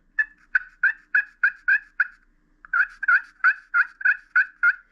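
A handmade slate turkey call from Spring King Calls is run in two quick series of sharp, evenly spaced yelps, about six then eight notes, separated by a short pause; close, clear and without talking.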